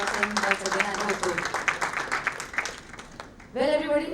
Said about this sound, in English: Can we have a huge applause for him once again?